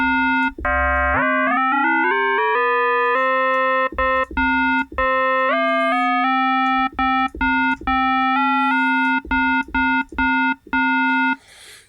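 An FM synthesizer plays a bell-like patch, a run of bright metallic notes with clear overtones that step up and down in pitch over a sustained low drone. The sequence is loud and clean, and nobody speaks.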